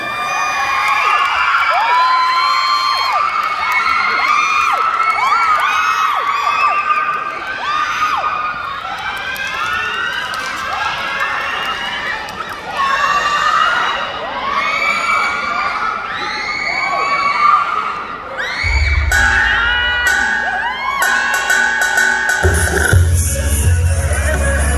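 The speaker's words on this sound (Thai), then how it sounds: "ถ้าพร้อมแล้วขอเสียงกรี๊ดดังให้กับเชน" A large crowd at a cover dance contest at a mall screams and cheers loudly for a dance team, shrill whoops sustained throughout, with music starting near the end.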